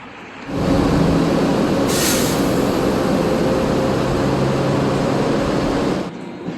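A train rumbles steadily past at the Hempstead, Long Island railway station for several seconds, a loud continuous roar with faint tonal hums, then cuts off abruptly.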